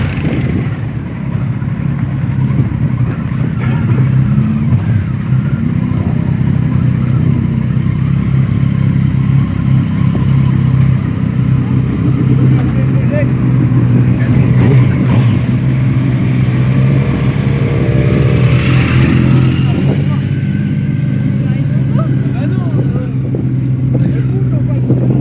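Modern motorcycles at a motorcycle festival in Sainte-Croix-sur-Buchy rumble continuously and loudly for the whole stretch, a dense engine drone with some revving and clatter, while people talk nearby.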